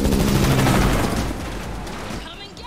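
Loud, dense gunfire from a big gun in The Matrix Awakens video game, a rapid burst of booming shots with rumbling low end that thins out toward the end.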